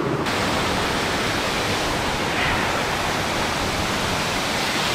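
A waterfall pours into shallow pools deep in the woods, making a steady, dense rushing roar that holds at an even level for the whole stretch, with no voices over it.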